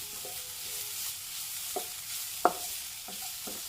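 Ingredients sautéing in ghee for payasam while they are stirred: a quiet, soft sizzle carries a few sharp spoon clicks against the pan, with no talking.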